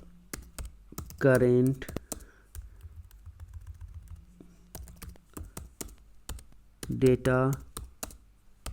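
Code typed on a computer keyboard, with rapid, crisp key clicks in uneven bursts, close and clear throughout, while someone briefly speaks twice over the typing.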